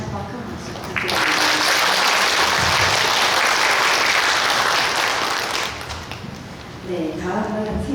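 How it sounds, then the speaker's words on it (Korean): An academic conference audience marking a Cheontae Buddhist temple's 50th anniversary gives a presenter a big, sustained round of clapping lasting several seconds, framed by someone speaking before it starts and again as it fades. "원교수님께 다시 한번 큰 박수 부탁드립니다"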